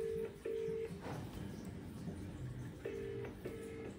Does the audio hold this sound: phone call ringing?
yes